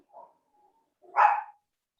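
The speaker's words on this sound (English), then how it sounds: "Oh, there's my dog." A pet dog gives two barks indoors during a casual virtual wine tasting, a faint short yip followed by a louder, fuller bark about a second later, with quiet in between and no talking.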